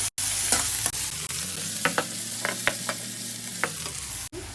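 Finely chopped green chillies frying in oil for a Kerala-style anchovy pickle, a dense, continuous close sizzle with scattered light clicks and scrapes from stirring, steady and alone without any voices.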